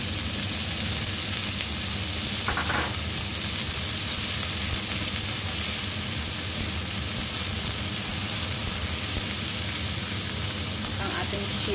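Chili tomatoes frying in a pan for a fish in tomato sauce dish, giving a loud, steady, continuous sizzle close up, with faint stirring and a soft voice now and then.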